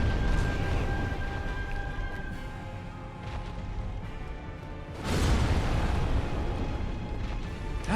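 Explosion in the video game Dark Souls, a deep rumbling blast with a second surging burst midway, loud and sustained, no talking.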